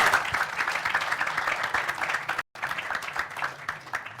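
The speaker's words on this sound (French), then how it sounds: "Ça s'applaudit." Audience at a film debate tied to the FESPACO festival breaks into lively clapping, a dense steady wash of hands that cuts out for an instant midway, then resumes just as strongly.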